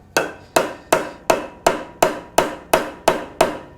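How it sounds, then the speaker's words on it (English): A small rubber mallet taps a Kubota L2201 tractor's alternator into place, ten evenly spaced, solid knocks with quick decays in a steady rhythm, close and alone. "What I like to do is get a little rubber mallet."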